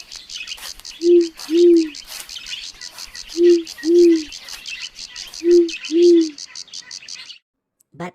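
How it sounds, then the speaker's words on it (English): An owl hoots in a daytime forest scene, three paired low hoots spaced evenly, with steady insect and bird chirping running underneath. "What if I add the sound of an owl in it?"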